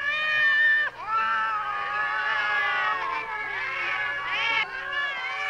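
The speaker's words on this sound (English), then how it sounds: "there's just a scene that shows Luke trailing some meat out, and the army of cats is following him out" A crowd of cats meows and caterwauls in a movie scene, with overlapping drawn-out cries at close range and a low hum underneath.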